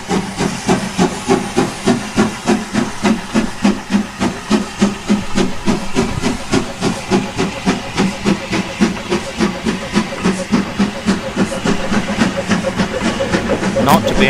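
A mixed-traffic steam locomotive pulls away northward, its loud, steady exhaust chuffs beating in a strong regular rhythm over a continuous hiss of steam, close by and sustained throughout.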